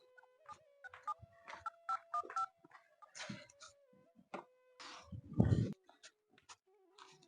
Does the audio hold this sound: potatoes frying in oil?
no